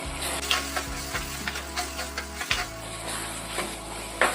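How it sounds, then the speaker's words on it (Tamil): Kashmiri chili powder and tomato sautéing in oil for a sardine and raw mango kuzhambu, giving a soft, steady sizzle broken by periodic scraping stirs over a low background hum. "இப்போ இந்த காஷ்மீர் மிளகாத்தூளை தக்காளி கூட நல்லா எண்ணெய் பிரிஞ்சு வர்ற அளவுக்கு வதக்கிக்கலாம்"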